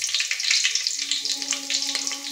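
Cumin seeds sizzle in hot oil for a tempering after small onions, with a bright, steady crackling hiss and tiny pops that stays close and loud throughout.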